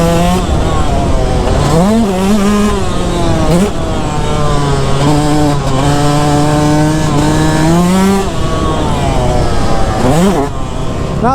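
A Yamaha YZ125 two-stroke dirt bike revs hard and close while ridden on concrete, its loud buzzing engine rising and falling in repeated throttle sweeps with no talking.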